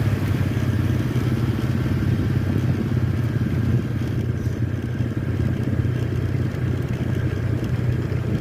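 A motorcycle engine rumbles steadily and close at the Mount Samat National Shrine, a constant low throbbing drone with faint clatter and no talk.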